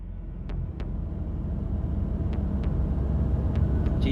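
An old car engine rumbles steadily in 428: Shibuya Scramble, a low, continuous drone that grows slightly louder, with a few faint clicks or ticks over it and no talk.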